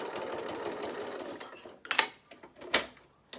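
A sewing machine stitches fabric for a toy bear, a steady close whirring run that stops, then a couple of short sharp clacks and bursts of the mechanism.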